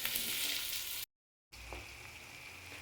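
Onions frying on a high flame for a dhaba-style chicken masala, giving a steady broadband sizzle that cuts out briefly, then resumes with a faint scrape of stirring.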